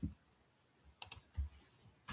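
A computer keyboard being typed on, with a few sharp clicks of a key, likely backspace, spaced out over a quiet background; faint low thumps in between.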